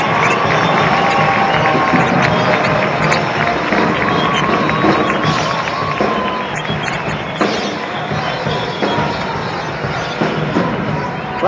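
Loud, dense crowd noise fills a college men's basketball arena as fans cheer and applaud the senior class, a continuous roar of clapping and shouting with babble, steady throughout.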